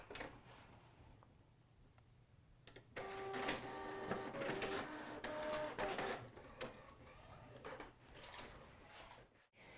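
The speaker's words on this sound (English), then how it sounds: "you can just go over and load it in your printer. It will accept it and run it right through." An inkjet printer draws in a sheet of coated craft paper and prints on it, with a whirring feed, a steady run of mechanical passes and clicks, and a final thump, all close and quiet.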